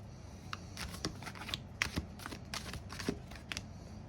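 A deck of tarot cards being shuffled up close, with crisp riffling bursts and soft slaps recurring in an irregular rhythm, fairly quiet and alone.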